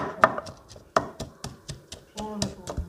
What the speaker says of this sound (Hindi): हम लहसुन और अदरक का पेस्ट बना रहे हैं जो कि बीफ में डाला जाएगा।